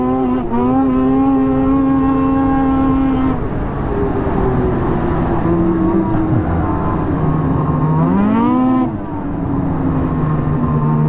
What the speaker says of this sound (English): So one of Mike's buddies, Darren, was kind enough to lend us his Lynx Rave 3500 that I'm riding right now.